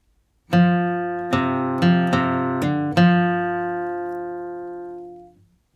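Acoustic guitar plays the second measure of a bluegrass tune in a flatpicking style: six crisp picked notes in a quick rhythm, bright and close, the last note ringing out alone.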